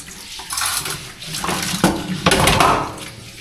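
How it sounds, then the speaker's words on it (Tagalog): Dishes are washed under a running tap, with clinking plates and cutlery knocking in uneven bursts over a wash of water, close by and fairly loud. "kami na maghuhugas"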